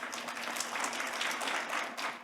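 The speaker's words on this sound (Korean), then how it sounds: "힘찬 박수로 맞이해 주시기 바랍니다." Steady applause fills a workshop hall as an audience welcomes a research institute presenter to the stage, a dense continuous clatter of many hands at moderate distance, no voices over it.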